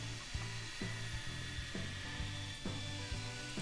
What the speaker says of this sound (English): So this is now just grinding or sanding the bevel on the opposite side of the blade.